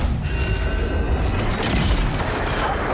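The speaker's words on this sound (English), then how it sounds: "Shooting this robot in the ass." Flintlock pistol fire in the fantasy video game Avowed comes as a loud, continuous rumble of booming shots and impacts, dense and heavy throughout with no clear gaps.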